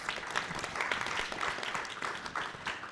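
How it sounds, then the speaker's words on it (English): Audience applause at a SXSW panel on public art and the gender gap, steady dense clapping filling the room for about three seconds without speech. "Let's give her a round of applause."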